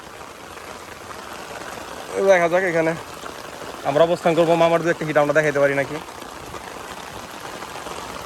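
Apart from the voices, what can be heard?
heavy rain falling on water while fishing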